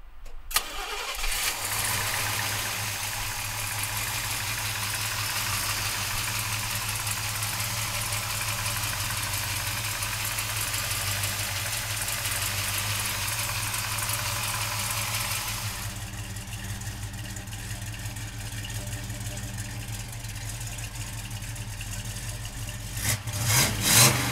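A 1966 Chevrolet Chevelle SS, black with black interior, fires up and settles into a loud, steady idle that holds evenly, then shifts slightly in tone toward the end.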